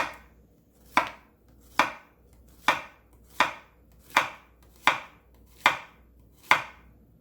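A knife chops through a zucchini on a board, eight sharp even cuts roughly every 0.8 seconds, close and clear with no talking.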